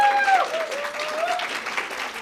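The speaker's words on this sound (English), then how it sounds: "So a round of applause for them" An audience claps for the jury at an LGBTQ emerging writers prize ceremony, with a steady patter of applause filling the room and a faint voice briefly carrying over it at the start.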